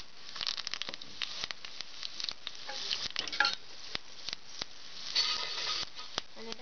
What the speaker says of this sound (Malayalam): ഇത്തിരി ഫ്രൈ ആവുന്നതിന് ഇട്ട് കൊടുക്കാം